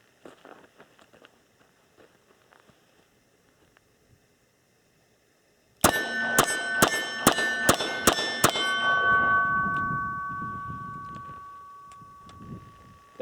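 A Smith and Wesson 686 Plus revolver fires seven .38 Special rounds double action in a rapid, evenly spaced burst of loud sharp cracks at an outdoor range, with a ringing metallic tone lingering afterward.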